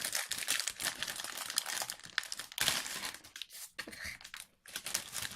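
Crinkly plastic packaging being handled and torn at, a continuous close rustling and crackling with brief pauses.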